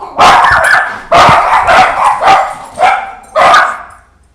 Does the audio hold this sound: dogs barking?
yes